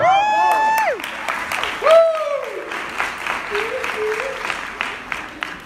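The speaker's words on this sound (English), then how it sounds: "Give those people a round of applause" Loud applause from a keynote audience at William Jessup University, with a few whoops and cheers rising over the clapping.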